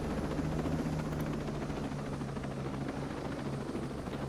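In the video game Ghost Recon Breakpoint, a helicopter hovers while looking for a spot to land, giving a continuous rotor thrum with a low steady drone, even and unbroken throughout.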